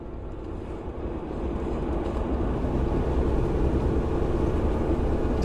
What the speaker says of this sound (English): The pitch of the engine climbed higher as the vehicle picked up speed